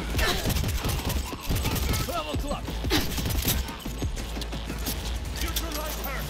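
Gun reloading in the Cyberpunk 2077 video game: a dense run of mechanical clicks and ratcheting metal handling sounds, loud and busy over a steady game background for several seconds.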